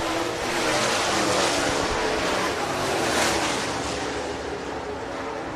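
Race cars running on the dirt track at Cherokee Speedway in Gaffney, South Carolina: a continuous, loud, broad engine roar that swells and fades slightly as the cars pass, with no voices.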